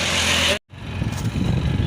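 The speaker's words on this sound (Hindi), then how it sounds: "बाइक से जाएंगे, बाइक से ये जाएगा और हम जाएंगे, ये हमारा बाइक है।" Motorcycle engine running near the microphone outdoors on the way to Kushinagar, a loud steady idle that cuts out briefly, then resumes with a rougher, pulsing rumble.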